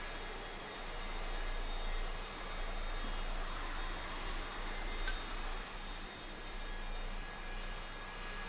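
Steady jet engine whine and low rumble from an aircraft landing in the DCS flight simulator, a continuous faint drone that swells and eases slightly, with no talking.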